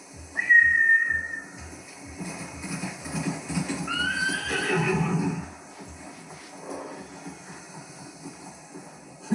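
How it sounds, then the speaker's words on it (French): Horses neigh and whinny in Ghost of Tsushima, a loud close whinny near the start followed by a second one mid-clip, with hoof clatter and background game noise throughout. "Ces idiots ont fait peur aux chevaux."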